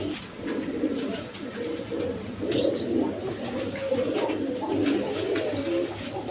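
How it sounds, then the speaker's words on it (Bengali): Pigeons, including a pair of Gola pigeons, coo continuously in a dense, overlapping chorus of low burbling calls, close by and steady throughout, with a few light clicks and no speech. "এখানে এক পেয়ার গররা কবুতর আছে দেখেন"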